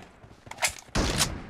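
Gunfire in a battle royale video game, with a couple of sharp shots followed by a longer burst of rapid firing, close and loud, with no talk over it.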